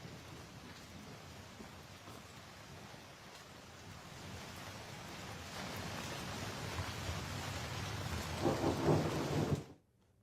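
Heavy downpour with rumbling thunder during floods and landslides in Aizawl, Mizoram, northeast India; a dense steady roar of rain that swells toward the end before cutting off, with no voices.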